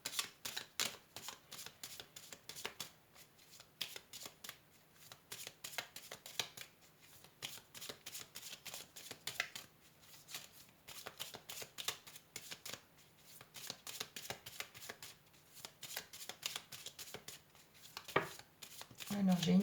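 Petit Lenormand oracle cards being shuffled by hand, a quick run of crisp riffling bursts and soft slaps repeating rhythmically at close range, with occasional faint speech.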